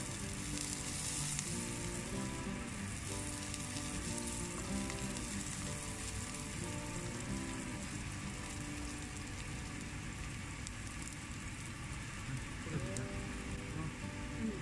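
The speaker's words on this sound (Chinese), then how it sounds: "接下来锅里放些油，放入干辣椒、葱、姜、" Dried chilies, scallion, ginger and star anise stir-fry in hot oil for braised cutlassfish, an even, continuous sizzle that carries on for the whole stretch beneath soft background music.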